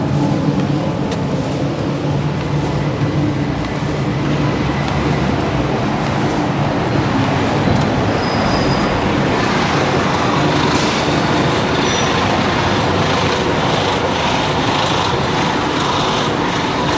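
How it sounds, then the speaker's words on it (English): Street traffic on York Street, Sydney, with noisy buses passing: a broad, continuous roar of engines and tyres, fairly loud and steady, with no one talking. "Apart from the noisy buses, it's quiet on York Street."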